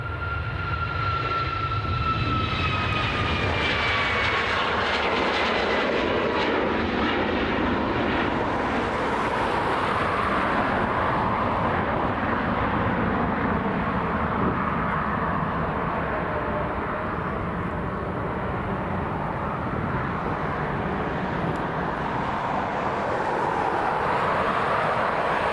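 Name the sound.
Ryanair Boeing 737 MAX jet aircraft at Dublin Airport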